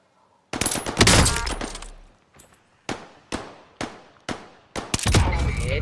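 Enemies open fire in a video game on the Caldera map. A loud burst of shooting is followed by a string of single sharp cracks, each with a fading tail, and then another heavy volley.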